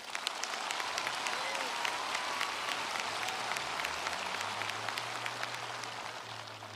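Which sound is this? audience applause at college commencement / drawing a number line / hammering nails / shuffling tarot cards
audience applause at college commencement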